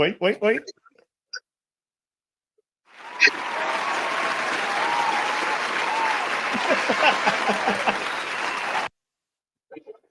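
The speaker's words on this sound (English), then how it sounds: "y'all please give a round of applause to my beautiful daughter-in-law, Tina, also known as Tina Sinful" An audience breaks into sustained applause and cheering for Tina, a steady dense wash of clapping lasting several seconds before cutting off, with brief talk before and after.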